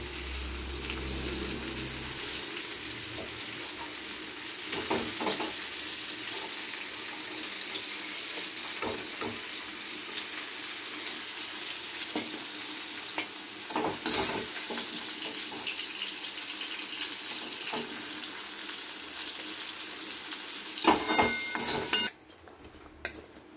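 Steady sizzling hiss of long beans and potatoes frying in oil, continuous throughout, with occasional clinks and scrapes of a utensil against the pan.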